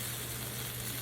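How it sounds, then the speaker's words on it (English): Andouille sausages sizzle in a pan with a steady, soft hiss and a faint low hum underneath, continuous and fairly quiet throughout. "So we're going to start by cooking our sausages"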